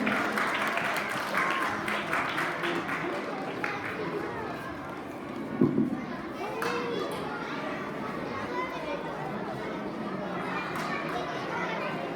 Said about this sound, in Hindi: सभी बच्चे जोरदार तालियों से इनका स्वागत करें